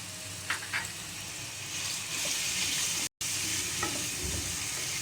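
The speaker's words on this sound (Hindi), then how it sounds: "यहाँ ऑयल गरम हो जाए तो आप ये 1 प्याली के करीब चिकन को ऐड कर दीजिएगा, जो मैंने क्यूब की सूरत में काटे हुए हैं।" Cubed chicken pieces hit hot oil and fry with a loud, steady sizzle and hiss, joined by a few stirring clinks early on and a short dropout partway through.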